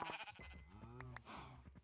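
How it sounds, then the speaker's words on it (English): Sheep in the VR game QuestCraft bleat loudly and up close, a couple of wavering, nasal calls running through the short stretch. "Die, sheep!"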